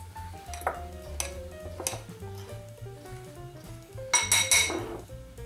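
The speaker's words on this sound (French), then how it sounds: "On va commencer par mélanger la farine et le sel." Flour and salt are mixed in a bowl for brioche dough, heard as scattered clinks and taps of a utensil against the bowl, with a brighter cluster of clinks near the end, no talking.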